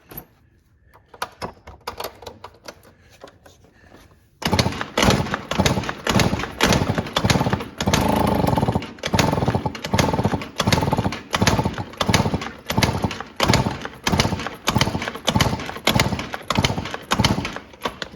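A Yamaha Jog scooter engine, with no air box fitted and fed brake cleaner, bursts into loud, rapid, rattling firing after a few quiet seconds and keeps pulsing in an uneven rhythm, close by.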